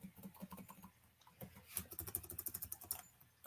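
Quick, light clicking of keys on a computer keyboard, an irregular run of soft taps close by that speeds up into a denser burst near the end, with no voices.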